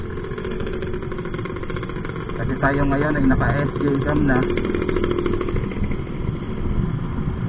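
Motorcycle engine droning steadily throughout a ride toward Lipa City, Batangas on an alternate road, a continuous low rumble under someone talking nearby with the engine note rising slightly midway.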